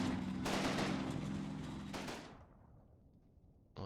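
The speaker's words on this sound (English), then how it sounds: "there's some kind of anti-aircraft, light anti-aircraft gun over there. And it is slicing right through our tank" A light anti-aircraft gun in the wartime strategy game Combat Mission fires at a tank, a dense rapid burst of close shots that cuts off and leaves a fading rumble before another shot lands at the end.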